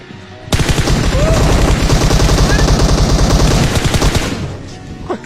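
Rapid automatic gunfire from the video game PUBG Mobile bursts nonstop for about four seconds, loud and close, with a faint voice underneath before it cuts off.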